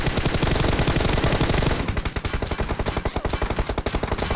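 Rapid automatic gunfire in the video game PUBG Mobile, a loud, close, sustained stream of evenly spaced shots firing without pause, with no talk.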